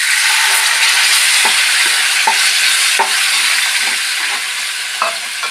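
Thick curd being stirred into a green chili curry in a pan, with a loud continuous sizzle and a series of rhythmic scraping and tapping strokes from the spoon against the pan. No voices are heard.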